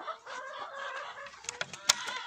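A rooster and hens cluck and murmur close by in a farmyard, with a few sharp squawks near the end.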